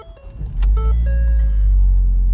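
A 2013 Ford Focus starts up: a few small clicks and a brief starter whir, then the engine catches with a loud low rumble that settles into a steady close idle.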